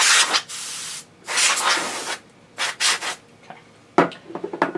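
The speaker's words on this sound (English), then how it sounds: "I have to hit the head cleaner again" Aerosol head cleaner sprayed onto the disk drive heads of a TRS-80 Model 4 computer, several close hissing bursts of varying length, followed by short scraping and tapping sounds.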